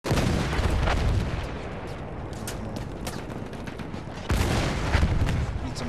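Artillery booms and rapid gunfire from a World War I battle in Battlefield 1, a dense, loud, continuous barrage with a sharper burst of blasts toward the end.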